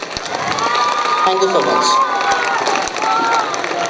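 An audience at a school annual function claps and cheers in a hall, a steady wash of applause and shouts under a voice speaking over a microphone.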